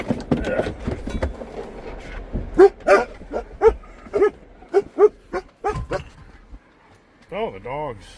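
Dogs barking in a backyard by a fence, a series of sharp barks and yips close by in an irregular rhythm, with a person talking over them and some whimpering near the end.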